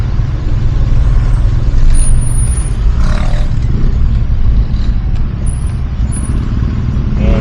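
Heavy road traffic in Pasig heard from inside a vehicle, a loud continuous low engine rumble and road roar with occasional brief squeals and passing noises, no talking.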